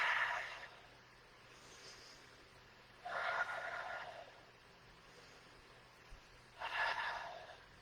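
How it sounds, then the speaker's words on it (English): Three slow, soft breaths out, close and quiet, spaced a few seconds apart with near silence between them. "Breathe out as you flick the energy down."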